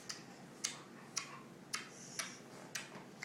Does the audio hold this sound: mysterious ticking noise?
yes